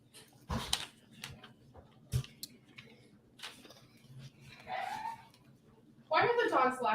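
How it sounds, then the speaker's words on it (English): Indoor dogs barking and whimpering from behind a closed door, a few short barks spread out with a whiny burst near the end, fairly faint under a quiet room. "Why are the dogs locked up?"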